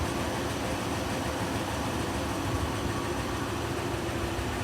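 A 1953 Buick Woody engine idles steadily with a low, even rumble that holds at a constant level throughout, with no voices over it.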